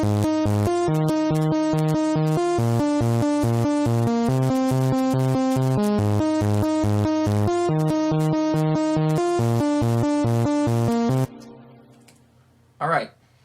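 A bright dance synth run through an amp and a stereo imager, playing a fast, choppy repeating chord pattern loudly. It cuts off abruptly and leaves a faint tail and one short blip.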